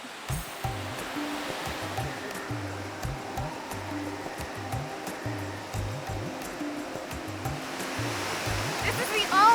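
A waterfall in the Malaysian highlands roars in a steady, broad rush of falling water, loud and close. A low rhythmic engine-like hum runs underneath, and a voice is briefly audible over the noise.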